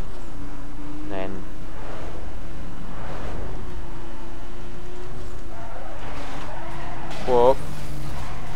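A race car in the Need For Speed Most Wanted (2005) video game brakes hard with its engine running steadily, and a short tire squeal comes near the end as a person talks over it.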